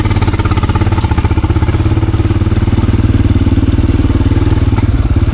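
A motorcycle engine runs steadily close by, a loud, even low rumble with rapid regular pulsing throughout.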